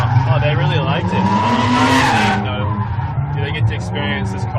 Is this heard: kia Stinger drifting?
yes